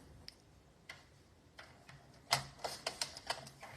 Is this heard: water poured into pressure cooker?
no